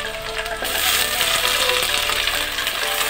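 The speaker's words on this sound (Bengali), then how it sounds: "কড়াই প্রথমে তেল গরম করে জিরে ফোড়ন দিলাম, দিয়ে আলুগুলো ভেজে নিচ্ছি।" Potatoes frying in hot oil with cumin in a kadai give a steady, loud, hissing sizzle that runs without a break.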